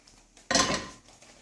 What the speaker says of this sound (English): I'm going to put this vessel on the gas